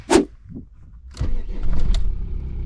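A 20-year-old Audi A4 B5 with a 1.9 TDI diesel engine starting: a short sharp click and brief crank, then the engine catches and settles into a rough, rattling idle, close and fairly loud.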